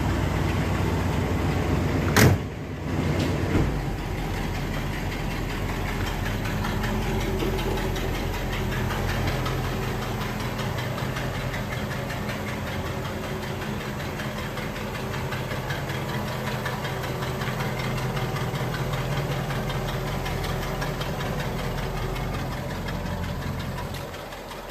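Classic car engine running steadily as the car pulls out, a continuous close idling rumble with a brief knock near the start, loud and alone without talk.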